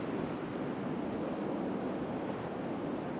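Ocean waves breaking on the shore at Rockaway Beach, New York City, on a winter surf day, heard as a steady, dense roar of surf with wind noise against the microphone and no voices.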